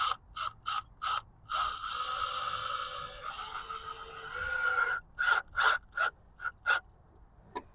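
A tool being screwed in to fit the crank seal on an R53 Mini Cooper S, making a series of quick ratcheting clicks in short bursts, a longer whirring stretch in the middle, then more separate clicks close by.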